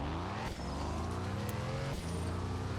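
A turbo car in the Star Drift Evolution racing game drives on the Skyfall track, its engine droning steadily and loudly with slight pitch shifts and brief dips as it shifts or turns.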